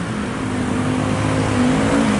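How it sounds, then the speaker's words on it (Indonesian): A heavy Scania trailer truck hauling drilling equipment rumbles along a mountain road with a loud, steady, close engine drone and a slight rise in pitch. "5 unit truk Scania membawa alat bor ke Karaha"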